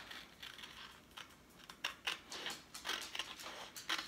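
Scissors cutting out a craft piece for a Dollar Tree coffee bar decor project, heard as faint, close snips and crinkles in an irregular run, with no talk.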